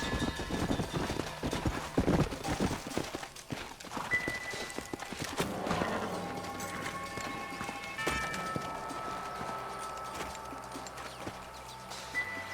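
Steady clip-clop of horse hooves at a trot in Red Dead Redemption, fairly close, with music and faint ambient sounds layered over the rhythmic hoofbeats.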